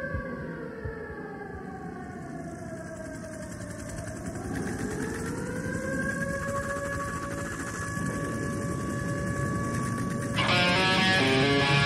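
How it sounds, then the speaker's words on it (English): Sirens wailing with long rising and falling tones that hold steady, loud and continuous, with a second higher-pitched siren joining near the end. "Those sirens are so scary"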